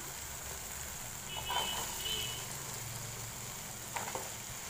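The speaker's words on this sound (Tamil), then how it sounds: "நல்லா அந்த அவரைக்காவை நல்லா வந்து வதக்கிக்கோங்க" Broad beans (avarakkai) sauté with tomato in a pan for a poriyal, giving a quiet, steady frying sizzle, with soft scraping stirs of a spatula now and then.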